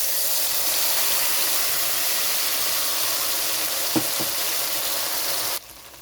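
Ground spice paste sizzling in hot mustard oil for a spicy tilapia curry, a loud continuous close hiss with a couple of faint clinks before it cuts off near the end.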